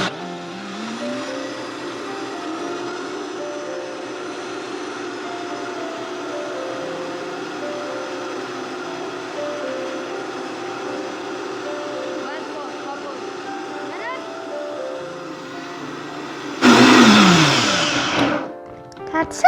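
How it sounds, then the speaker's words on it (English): A high-speed blender whirs steadily while blending a pumpkin pie smoothie, its motor pitch climbing at the start and holding a loud, even drone, then a harsher roar near the end before it stops. "this is our high-speed trusty blender here again"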